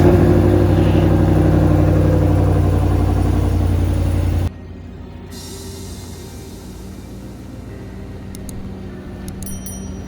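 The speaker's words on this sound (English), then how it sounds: "Cold start." Engine of a GMC Sierra AT4 pickup truck after a cold start, a loud steady idle roar for the first few seconds that then drops to a quieter, lower rumble, with no talking.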